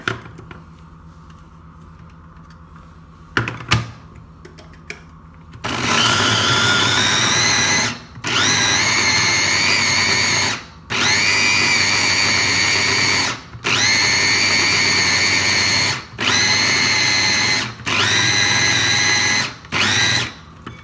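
An electric chopper whirs through a kofta mixture in loud, steady bursts, about seven of them with short pauses between, after a few seconds of quiet kitchen handling noise.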